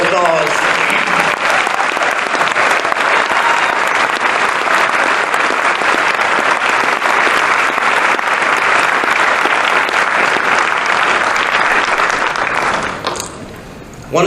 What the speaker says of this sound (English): Let's give them all the applause.